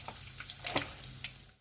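Half a spoon of asafoetida drops into hot oil where mustard seeds have already popped, making a faint, soft sizzle with a few quiet crackles over a short moment before fading out.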